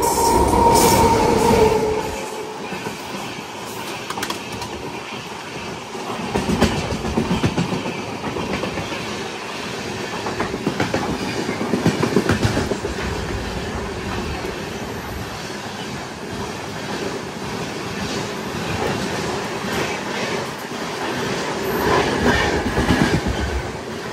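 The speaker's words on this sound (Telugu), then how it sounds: "విజయవాడ లింగంపల్లి ఇంటర్సిటీ ఎక్స్ప్రెస్ ఇది." The 12785 Vijayawada–Lingampalli Intercity Express passes on the opposite track, running about 40 minutes late, heard from aboard another train as a loud, steady rush of wheels and rail clatter with occasional squeal, swelling and easing over the pass.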